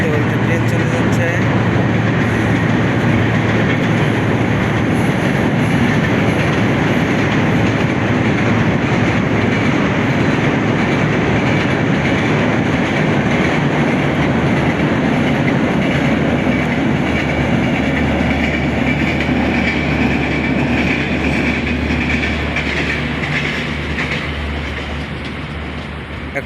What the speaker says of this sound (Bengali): বলতে বলতে ট্রেন চলে যাচ্ছে